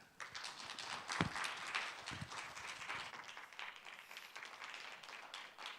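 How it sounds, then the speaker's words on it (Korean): An audience at a conference talk claps in a dense patter of applause that stays fairly even, then gradually thins and fades. "여러분, 마크 마슬린 교수님을 큰 박수로 모시겠습니다"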